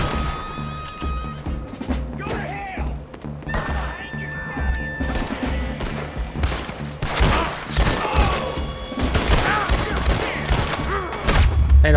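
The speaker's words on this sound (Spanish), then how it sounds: "si les he metido 5 balazos a cada uno" Gunfire in Red Dead Redemption 2 comes in loud, sharp bursts of rapid shots and crashing impacts that grow denser toward the end, with a voice talking in between.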